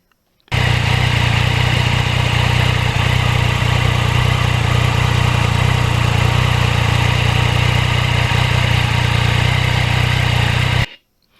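A 2020 Yamaha MT-09 motorcycle engine runs steadily while riding, a loud continuous drone with strong low rumble that holds at an even level for about ten seconds before cutting off.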